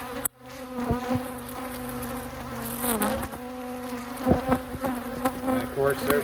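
Honeybees in a Layens hive buzz loudly and close, a dense insect drone with individual bees swooping past, rising and falling throughout.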